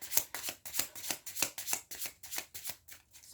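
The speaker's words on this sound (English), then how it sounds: "Okay, so we're just going to shuffle up these cards here." Cards are shuffled in a quick, steady riffle of about a dozen crisp bursts, close and fairly quiet, with no talking.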